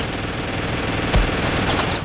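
An MG42 machine gun fires in the video game Ravenfield as a rapid, continuous burst of shots with one heavier thump near the middle.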